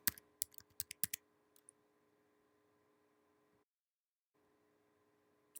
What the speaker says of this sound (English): and type in a credit card number